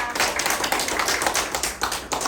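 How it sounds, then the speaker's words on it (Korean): A church congregation claps in a dense, continuous patter of hands during a Sunday service, fairly close, with no voices over it. "먼저 하나님께 감사의 박수 드리겠습니다."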